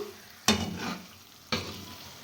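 Red chili chutney sautéing in plenty of oil, two sharp bursts of loud sizzling as the mixture is stirred, each fading into a softer steady fry, close and without speech.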